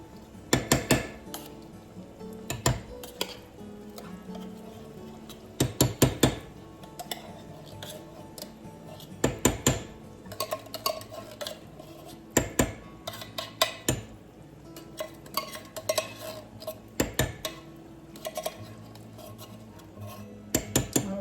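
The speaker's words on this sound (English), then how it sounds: "So we're gonna go ahead and put these beans in here." Canned beans tipped into a pan of browned onions, with repeated sharp metallic clinks and scrapes of utensil against pan coming in clusters, fairly close, no talking.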